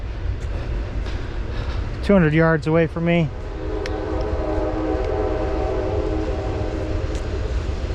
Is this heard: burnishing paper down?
no